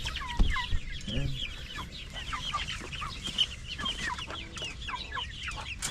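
Caged backyard chickens clucking steadily in a coop, a busy overlapping chorus of short clucks at moderate distance with no talk.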